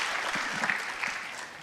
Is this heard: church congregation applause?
yes